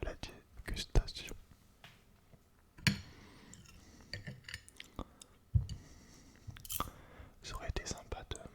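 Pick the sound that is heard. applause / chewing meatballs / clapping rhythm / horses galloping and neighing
chewing meatballs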